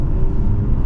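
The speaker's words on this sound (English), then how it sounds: "Hit sport mode once and just give it some gas." A 2023 BMW 540i M Sport in sport mode, its engine pulling hard under throttle with a steady, loud low-pitched drone and rumble that holds for under a second.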